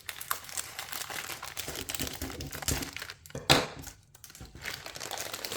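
Dragon Ball Daima trading card packs torn open by hand, with dense, close plastic wrapper crinkling and crackling that runs almost nonstop, broken by one sharper rip partway through.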